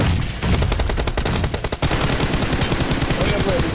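Rapid bursts of game gunfire crackle loudly and continuously, dense automatic shots overlapping throughout.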